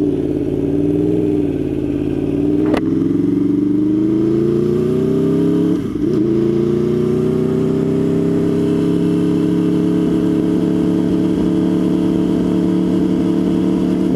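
An Aprilia Tuono V4R motorcycle in track mode runs steadily while moving, its loud V4 engine drone holding a rising and settling pitch, with a brief sharp tick and a short dip partway through.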